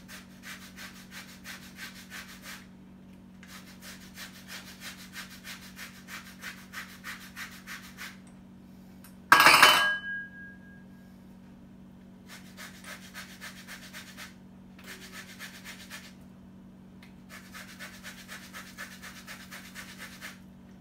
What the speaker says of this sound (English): I see why they want you to zest a whole orange